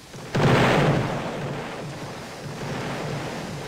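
Rockets firing and exploding in a Roblox game, a sudden loud blast that opens into a broad roaring rumble and slowly fades but stays heavy to the end, with no speech over it.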